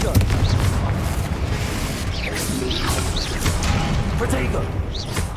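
A Confringo fire-blast spell detonates in the Hogwarts Legacy video game, a dense booming, crackling barrage under spoken voices, with repeated explosive bursts over sustained low rumble.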